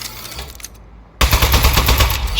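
An Aperture Science turret in the video game Aperture Desk Job opens fire after a brief silence, a loud sustained rattle of rapid shots that continues to the end.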